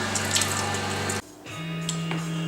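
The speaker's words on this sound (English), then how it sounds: "and to trim them under cold running water." Cold water runs from a kitchen tap while jalapenos are trimmed beneath it, a steady close rushing stream that cuts out briefly and then resumes with a lower, fuller flow.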